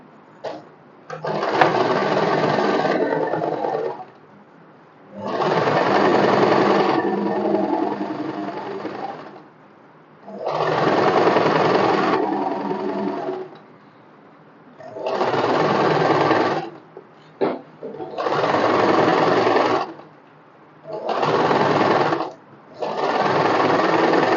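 A sewing machine stitches the back neckline of a cotton one-piece summer dress, running in six close, loud bursts of a few seconds each, separated by short quiet pauses.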